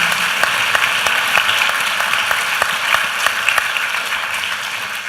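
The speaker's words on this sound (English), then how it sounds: "Let's give her a round of applause." Steady, loud applause from an audience at a televised pitch event, with dense rapid clapping holding evenly throughout and no talk.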